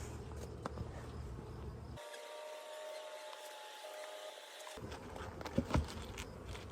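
Honey bees buzz steadily around an open hive frame during a nuc split, a faint insect hum and drone that drops out briefly in the middle, with some handling noises near the end.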